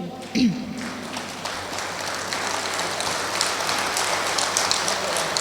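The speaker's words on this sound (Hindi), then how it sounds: "जब आपकी तालियां इतनी जोर की आने लगती हैं" Sustained applause from an audience at an Urdu poetry mushaira in Muscat, Oman, a dense steady patter of clapping that fills the space and holds at an even level throughout.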